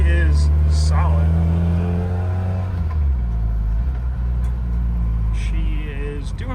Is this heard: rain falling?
no